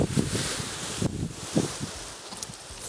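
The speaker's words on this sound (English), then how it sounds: "The wind really is throwing itself around out here." Gusty wind buffets the microphone in an open field ringed by trees, with rough rushing bursts rising and falling throughout and no voices.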